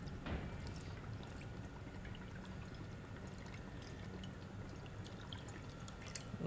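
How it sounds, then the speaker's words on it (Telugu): Water is poured into a pot for boiling pasta, a soft, continuous stream splashing faintly at close range, with no one speaking. "మనం ఫస్ట్ కొద్దిగా చల్ల నీళ్ళు తీసుకుందాం వాటర్ బాయిలింగ్కి పెట్టడానికి"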